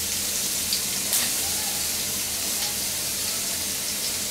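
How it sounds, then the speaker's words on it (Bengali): Onions fry in a pan of hot oil as part of a Bangladeshi dried kachki fish dish, giving a steady, close, even sizzle and hiss with no talking. "আমি একটা প্যানে তেল গরম দিয়ে এর মধ্যে কতগুলা পেঁয়াজ দিব"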